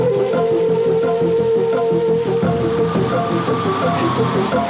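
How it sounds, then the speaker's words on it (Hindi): Heavy rain pours down in a loud, steady, unbroken wash that fills the whole stretch with dense hiss and spatter; no one speaks. "इतनी बारिश में? बहुत जोर से हो रही है सर।"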